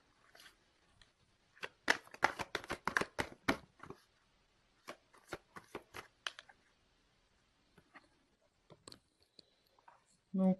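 Tarot cards drawn and laid down during a reading, a close run of quick crisp card snaps and flicks, dense at first then sparser and quieter, with brief pauses between.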